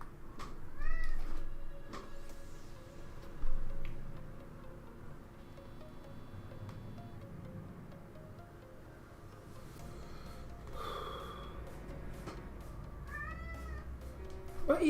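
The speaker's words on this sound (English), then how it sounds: "my cat's meowing." A house cat meows several times indoors, with drawn-out rising calls near the start and again toward the end, over a steady hum of truck-driving game audio and faint ticking.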